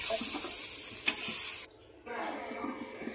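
Loud, close sizzling and scraping of food being stirred in a pan, cutting off briefly before the frying resumes more quietly.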